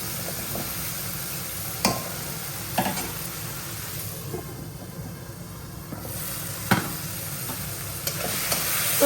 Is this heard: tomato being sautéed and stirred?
yes